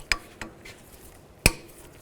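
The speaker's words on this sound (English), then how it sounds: "Now just take the cotter pin out. Just use some side cutters." Side cutters snip a cotter pin on a 2005-15 Nissan Xterra axle during wheel hub work: two or three sharp, close metallic clicks, the last the loudest, in an otherwise quiet space.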